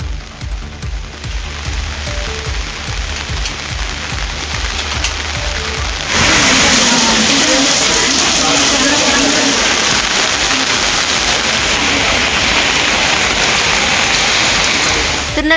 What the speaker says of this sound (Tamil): தொடர்ந்து கனமழை பெய்ததால் சாலையில் மழைநீர் பெருக்கெடுத்து ஓடியது